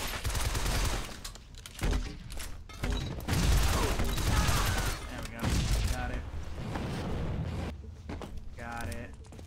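Gunfire in Shadow Complex, with bursts of shots and booms repeating through loud game action while someone talks over it.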